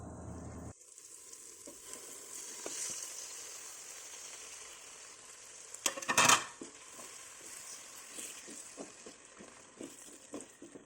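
Four beaten eggs are poured into a hot frying pan and sizzle, a steady hiss with a brief louder splash midway and scattered light scraping and tapping afterward, no voices.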